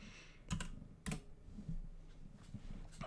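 Quiet keystrokes tap on a computer keyboard while a password is typed, with a few sharper clicks and soft, irregular taps in between.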